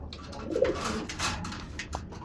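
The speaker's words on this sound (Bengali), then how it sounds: "আর এদিক দিয়া আমার কিছু কবুতর ডিম দিছে অনেক দিন পর।" Domestic pigeons kept by a breeder coo softly at close range, a few low throaty rolling calls over faint background noise and scattered bird sounds.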